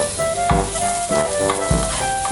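Olive oil heating in a pan for sautéing mushrooms, a steady close sizzle with a few louder surges as the pan is stirred or shifted, with no voices.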